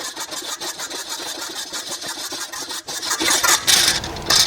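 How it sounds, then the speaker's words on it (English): Hand-winding the spring of a Coxreels spring-driven hose reel, a rapid mechanical ratcheting and clicking, steady at first and growing louder and busier toward the end, close by. "we're going to wind the spring by hand until we find the bottom of the spring"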